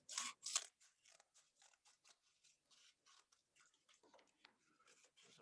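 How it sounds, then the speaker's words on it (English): Scissors snip and crunch through mask material, two sharp close cuts at first followed by a run of quieter, uneven snips and rustles in an otherwise quiet room. "I think it'd be easier to just use scissors"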